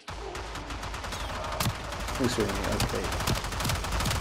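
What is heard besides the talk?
enemy gunfire in the video game Warframe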